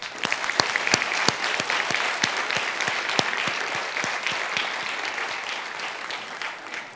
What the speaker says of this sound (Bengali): আমরা আমাদের সম্মানিত প্রধান অতিথি প্রফেসর ডক্টর মোস্তাফিজুর রহমানকে সবাই জোরে তালি দিয়ে অভিনন্দন জানাই